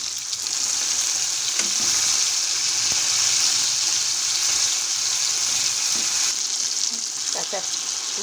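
Dried chilli, white cumin and tomato sizzle in hot oil, a steady loud frying hiss with occasional stirring clinks, no talking.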